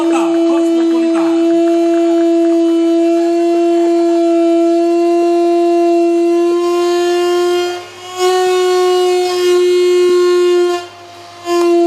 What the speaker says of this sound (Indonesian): kita nikmati sekali ya sirine itu ternyata ya. Bunyinya khas sekali.